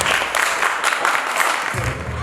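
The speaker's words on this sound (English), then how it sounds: "Let me hear you clap your hands" Wedding guests clapping along at an Oates wedding dance, a dense, loud burst of crowd applause and hand claps that carries on throughout, with a low voice or music entering near the end.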